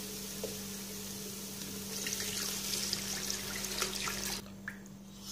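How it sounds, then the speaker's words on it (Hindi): Two glasses of water are poured into fried masala in a pan for kofta curry. The pour is steady, rushing and close for about two seconds, then stops abruptly, followed by a few faint drips over a low hum. "अब इसके अंदर शामिल कर देते हैं दो ग्लास पानी।"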